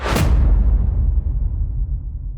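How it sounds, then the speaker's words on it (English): A cinematic impact hit for a motocross commercial: one heavy, loud broadband slam at the start that decays into a long, rumbling low-end tail, with no voices. "This would be the impact."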